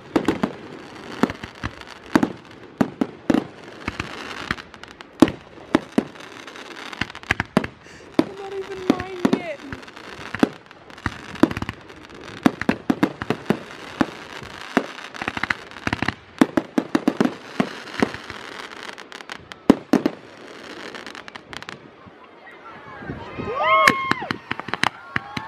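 Fireworks display at Mangonui firing in rapid, irregular bursts of sharp bangs and crackles throughout, with people talking and calling out in the crowd nearby, and a whistling rocket near the end.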